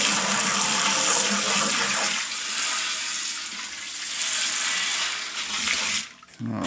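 Water gushes loudly from a tap into a brewing fermenter for a Coopers stout extract brew, a steady splashing fill that eases and then cuts off near the end.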